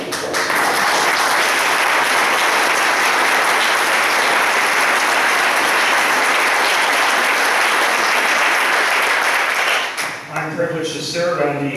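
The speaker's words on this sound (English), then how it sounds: "he deserves a round of applause" Audience applause for Lyndon Comstock, a loud, sustained burst of clapping from a crowd that holds steady for about ten seconds before cutting off abruptly.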